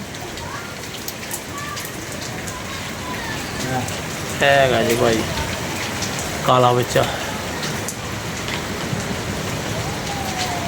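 Steady rain falls across a pigeon loft, a constant hiss under scattered voices, with two brief louder spoken bursts in the middle.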